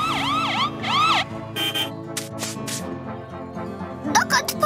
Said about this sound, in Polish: To syrena wozu strażackiego.